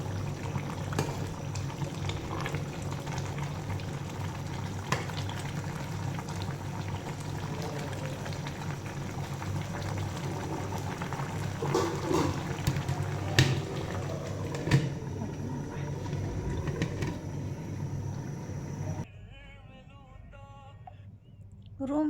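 Taro sautéing in a hot pot gives a steady, dense bubbling sizzle that continues for most of the time before dropping away near the end, with a faint voice at moments.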